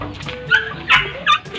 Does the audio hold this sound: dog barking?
yes